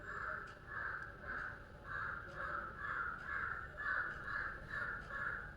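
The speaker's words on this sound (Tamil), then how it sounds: "நான் வீடியோ பண்ண உக்காந்தாலே இந்த காக்கா கத்துது." A crow caws repeatedly nearby in a steady rhythm of about a dozen harsh calls, each roughly half a second long, against a quiet indoor background with no talking.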